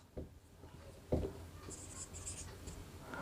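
Handwriting in a class 10 maths lesson on real numbers, soft scratchy strokes with a sharp tap at the start, faint under a low hum and quiet background speech.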